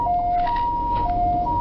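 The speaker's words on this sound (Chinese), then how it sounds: "救护车到场" An ambulance siren arrives at a street stabbing scene in the Fengjia shopping district of Taichung, wailing in a steady two-tone alternation, loud and close with no talk.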